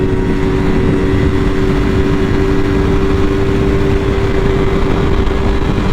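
A Yamaha R3 race motorcycle screams at full throttle in fifth gear on a track, a loud, steady, unbroken engine drone holding one high pitch throughout with no letup.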